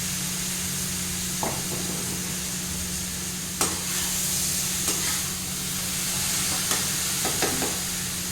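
Steady sizzle of soaked flattened rice being stir-fried in a pan, with occasional clinks of a spatula stirring, no talking.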